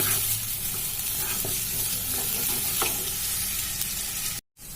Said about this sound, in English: add the greens, capsicum in the pan and mix it thoroughly